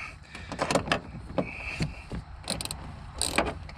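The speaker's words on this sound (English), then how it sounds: "I'm going to take my 8mm socket, and we're just going to tighten it in." An 8mm socket tightens a nut onto a stud beside a Nissan Altima reverse light, giving a series of faint, quick ratcheting clicks in a quiet space.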